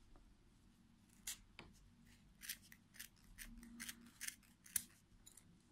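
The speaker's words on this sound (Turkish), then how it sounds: "yerleri şu şekilde kesiyorum" Small scissors snip through wound yarn while trimming a pompom made on a fork, a series of crisp, close cuts in an irregular rhythm over a quiet background with no voices.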